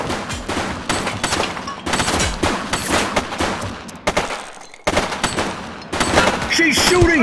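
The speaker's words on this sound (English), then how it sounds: "She's shooting!" Gunfire rattles through a police shootout in The Precinct, with repeated loud volleys of shots in clustered bursts, short lulls between them, and faint voices underneath.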